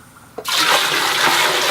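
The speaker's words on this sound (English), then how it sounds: "Back to the bathroom. And flush." Bathroom toilet flushing up close: after a quiet moment and a small click, a loud rushing gush of water starts and continues strongly to the end.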